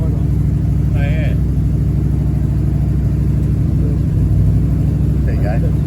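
A 1969 Ford Galaxie XL GT convertible with a 429 V8 and four-speed idles with a loud, steady, smooth rumble throughout, while people speak briefly over it.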